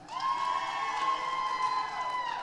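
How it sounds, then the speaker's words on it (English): Audience cheering and whooping at a live comedy show, a steady crowd roar sustained throughout with bright voices on top, no clear clapping rhythm. "Give her a round of applause."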